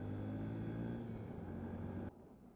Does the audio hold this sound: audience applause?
no